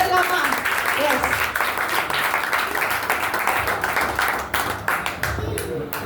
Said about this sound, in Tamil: நம்பிக்கையோட உங்களுக்கு ஒரு நல்ல கரகோஷம் கொடுத்துடலாமா?